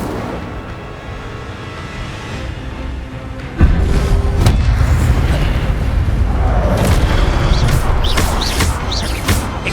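Incendio fire spell cast in Hogwarts Legacy, the wizarding video game, bursting in as a sudden loud whooshing boom that then roars on as a sustained fiery rumble with crackling bursts over game music.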